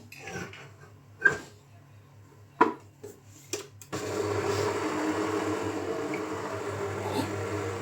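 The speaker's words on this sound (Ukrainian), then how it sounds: "додаємо дрібку солі і збиваємо білки" A few clinks and taps sound first, then an electric mixer starts whipping egg whites with a pinch of salt, a steady whirring drone that runs evenly to the end.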